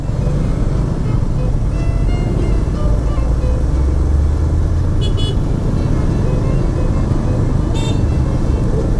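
Dense road traffic in a jam on a route from Tangerang to Pangandaran via the south, a steady loud wash of engines and rumble with brief car horn toots cutting through near the middle and end.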